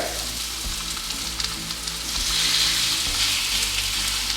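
Chicken searing in olive oil in a hot pan, a loud continuous sizzle and crackle heard close up that swells a little halfway through, with no talking.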